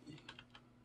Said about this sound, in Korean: 지금 타이핑이 잘 안 되네요.